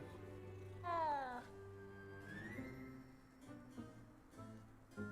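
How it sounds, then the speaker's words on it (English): Cat meowing in a wizard-themed video game: one loud, rising-and-falling meow near the start, followed by softer murmuring sounds and quiet talk over low game ambience. "Always pet the kitty."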